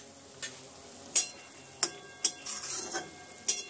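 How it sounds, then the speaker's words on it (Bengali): A spoon stirs a vegetarian flour-based dish in a pot after fried spice mix is added, giving several sharp metallic clinks and scrapes spaced irregularly over a quiet background. "দিয়ে নেড়ে চেড়ে এবার নামিয়ে দেব।"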